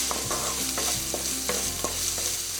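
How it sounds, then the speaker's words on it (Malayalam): Onions sautéing with salt in a pan for a Kerala egg thoran, with a steady close sizzle and repeated scraping stirs of a spoon against the pan. "ഇത് കുറച്ച് ഉപ്പ് ചേർത്ത് നമുക്ക് വഴറ്റിയെടുക്കാം."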